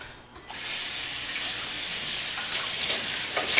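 Tap water runs steadily onto a cast iron pan being rinsed in a sink, a continuous hiss that starts abruptly after a brief quiet moment and keeps going with no one speaking.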